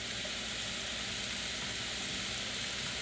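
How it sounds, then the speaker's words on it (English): Onions and green peppers sizzle steadily in a hot frying pan, a continuous close crackling hiss with no voices over it. "I'll throw my onions and green peppers in there"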